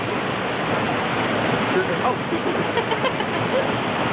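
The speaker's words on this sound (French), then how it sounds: "On a des petites cascades avec de la verdure, c'est incroyable." Small waterfalls tumbling among greenery on a trail in Hong Kong, a steady close rush of falling water that fills the whole stretch without pause.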